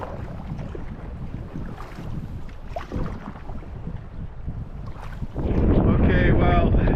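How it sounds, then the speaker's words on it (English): Strong headwind roars across the microphone while paddling a canoe through a Yukon canyon, a steady broadband gusting rush that swells louder near the end, with faint splashes of the paddle in the water. "this headwind has picked up again, and it is not manageable, unfortunately. It's blasting, it seems to be being channeled by this canyon"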